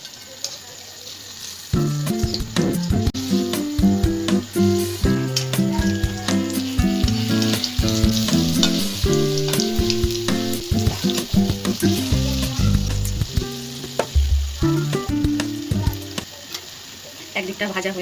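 Fritters frying in hot oil for Janmashtami puja give a steady, close sizzle and crackle, with occasional clinks as they are turned.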